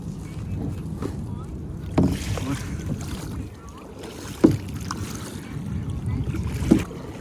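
Kayak paddling on a river in Yishun, with steady water wash and wind noise throughout and a few sharp paddle splashes standing out, while people talk nearby.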